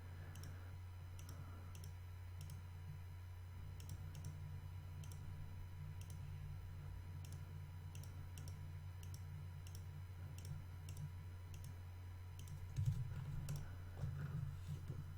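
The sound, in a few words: ctrl-clicking with a mouse in Inkscape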